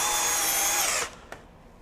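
A RIDGID 18V SubCompact drill drives a 3.5 to 4 inch deck screw into pressure-treated wood in a single close, high-pitched whine of about one second, then stops with a brief clack.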